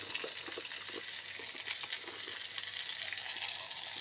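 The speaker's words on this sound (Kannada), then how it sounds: "ಇಲ್ಲಿ ಒಂದು 5-6 ಒಣಮೆಣಸನ್ನು ಕೂಡ ಫ್ರೈ ಮಾಡ್ತೇನೆ" Five or six dried red chillies sizzle steadily in hot oil for patrode masala, a continuous close, dense crackle and hiss with no voices.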